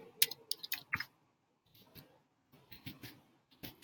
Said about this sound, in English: just type in 7th grade